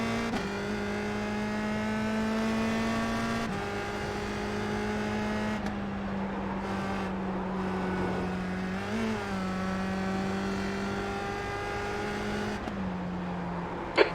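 A USF-2000 open-wheel race car in iRacing at Lime Rock Park, its engine droning steadily at high revs with sharp pitch shifts at gear changes, loud and close throughout with no talk.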